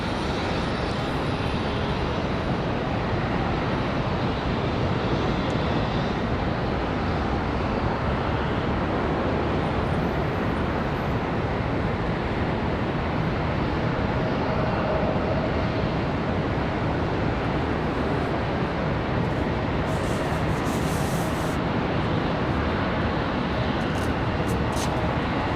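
Jet airliners at Charlotte Douglas International Airport give off a steady, continuous broadband roar as they taxi along the taxiway, near and constant throughout, with no speech heard.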